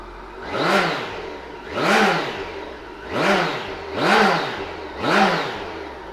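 A 2009 Kawasaki GTR1400 motorcycle with its big 1400cc engine, idling and then blipped through five evenly spaced revs that rise and fall, loud and close, with no speech.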